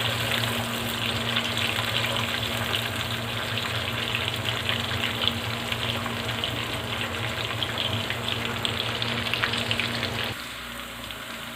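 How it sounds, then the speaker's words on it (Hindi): Two medium chopped onions fry in hot oil for a chicken karahi, giving a steady, dense sizzle close by that drops to a quieter hiss near the end. No one speaks. "और ये दरमियाने साइज़ के 2 प्याज काटे थे, इनको डालेंगे। प्याज फ्राई होने देते हैं।"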